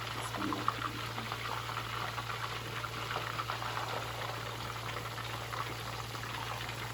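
Chapli kebabs, including some round-shaped patties, frying in a pan of hot oil for a kebab recipe, giving a steady, even bubbling sizzle with a constant low hum underneath and no talking.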